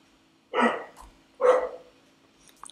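Two loud, close barks from a dog indoors, spaced about a second apart, followed by a few faint scuffing noises.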